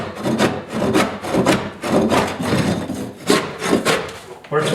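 Roof rake prying and pulling up an old wood floor in a rear entrance, a series of loud close scraping, creaking wooden pulls repeating roughly every half second to second, with no talking.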